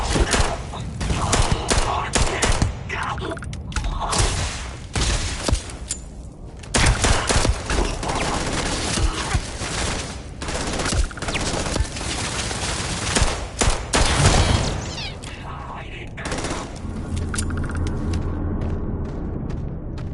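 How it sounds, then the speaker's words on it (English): Sustained gunfire in the video game Starfield, with dense overlapping bursts of automatic shots and booming impacts that run loud and nearly continuous for about twenty seconds. "Did you hear that? Firing."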